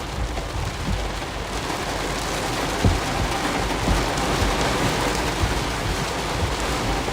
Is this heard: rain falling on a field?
yes